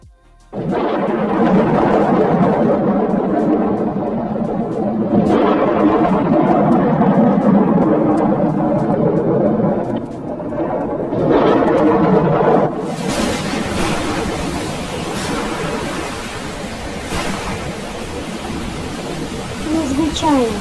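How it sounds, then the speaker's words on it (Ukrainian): Steady rain falls loud and close throughout, a dense hiss with a brighter surge near the end, while someone speaks over it. "це дощ."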